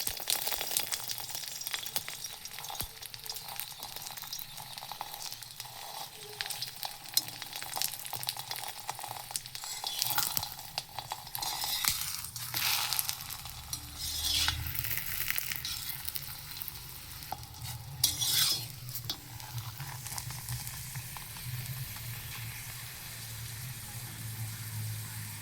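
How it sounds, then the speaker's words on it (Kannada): Lachha paratha frying on a hot griddle pan, a steady crackling sizzle that grows louder and busier midway, with scraping and turning noises. "ಲಚ್ಚಾ ಪರೋಟ ಕಾಯಿಸ್ತಾ ಇದ್ದೀನಿ."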